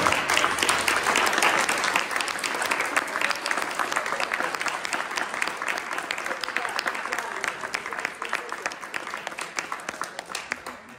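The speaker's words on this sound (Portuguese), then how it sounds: "levantem com uma salva de palmas para esses dois grandes músicos." An audience applauds two pianists after a piano performance, a long, steady roar of clapping from a sizeable crowd that holds loud throughout, with a few faint voices mixed in.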